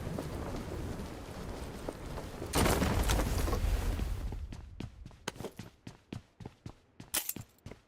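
PUBG Mobile gameplay opens with a dense, rumbling burst of gunfire and noise, then a quicker run of sharp, separate shots or impacts, fairly close and loud.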